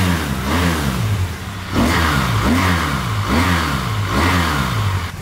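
A motorcycle engine in a motorcycle shop is revved repeatedly, with close, loud rising and falling throttle blips in a steady rhythm over a rough idle.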